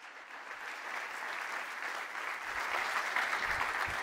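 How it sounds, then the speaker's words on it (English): A conference audience at a talk gives a polite round of applause: dense, even clapping from many hands that holds steady and swells slightly toward the end, with no voices over it. "Can you please give him a polite round of applause"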